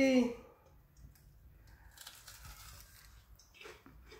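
Close-up crunching from biting into a crisp fried Puerto Rican alcapurria fritter, a cluster of small brittle crackles over quiet chewing, fairly faint.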